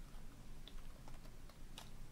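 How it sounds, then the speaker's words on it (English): Keys tapped on a computer keyboard while writing game code, a quiet, irregular patter of soft clicks with no voice. "It's really awkward typing like this."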